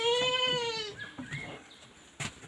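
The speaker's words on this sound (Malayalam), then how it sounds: "കുറേ ആടുകളുണ്ട്." A goat on a farm lets out one clear, wavering bleat close by, followed by quieter shuffling and a brief knock.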